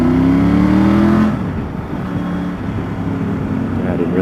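A Triumph motorcycle, either a 1200 Scrambler or Tiger 900 Rally, accelerates hard on a test ride with a rising engine drone that then drops to a steadier rumble under wind noise, close and loud.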